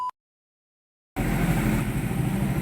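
A motorcycle engine runs steadily just after a repair: a sudden start out of near silence, then a continuous, fairly loud rumbling drone with no voices.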